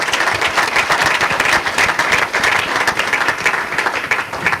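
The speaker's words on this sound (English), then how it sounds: "Everybody should give you a round of applause for all that work you've done." An audience applauds steadily, a dense wash of clapping hands that holds at full strength for several seconds.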